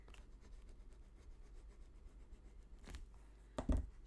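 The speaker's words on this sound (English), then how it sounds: "Get that rubbed down." Quiet, close rubbing of glued paper being pressed down by hand on a 6 x 6 mini album page, soft repeated scuffing strokes ending in a couple of louder taps or handling knocks.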